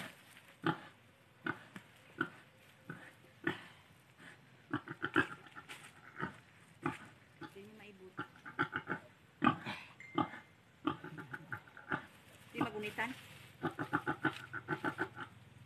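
Pigs on a farm give off a run of short grunts and snorts in irregular bursts, fairly close but soft, with brief gaps between calls and no talking.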